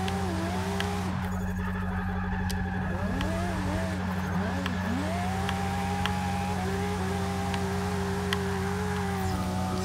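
Car engine in a racing video game, a rear-wheel-drive build, revving and holding at a steady high drone with pitch wavering as the throttle is feathered, while someone talks over it throughout.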